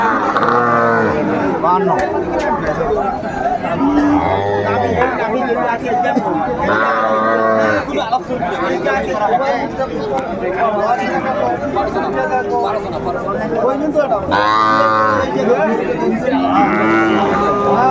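A Sahiwal bull calf of about three to four months moos repeatedly at a busy cattle market in Narail, its calls rising through a steady crowd hubbub with people talking nearby.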